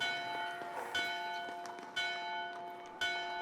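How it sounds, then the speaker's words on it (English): A large town toll house bell tolls steadily about once per second, resonant and reverberant, heard from a moderate distance with the hum of each stroke overlapping the next. "they made the toll house bell ring from morning until noon"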